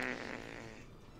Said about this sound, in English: it makes it like a farting sound